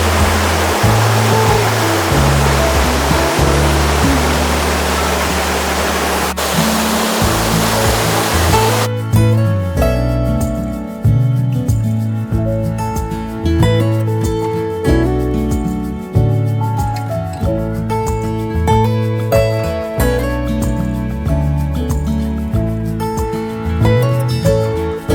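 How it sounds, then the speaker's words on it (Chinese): The small Sojeongbang waterfall on Jeju pours straight into the sea, a loud, steady rush of falling water for about nine seconds before music takes over and the water is no longer heard. "这潺潺流水声真的是非常的惬意啊"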